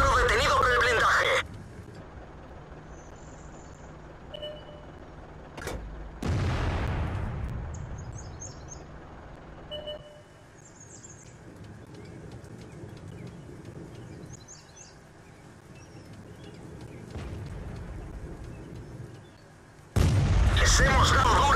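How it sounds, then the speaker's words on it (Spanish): Tank cannon fire in World of Tanks from an M18 Hellcat on a polar map: a few loud, sharp booms spaced seconds apart over a quiet ambient background, with voice lines of game announcements in between. "Disparo detenido por el blindaje."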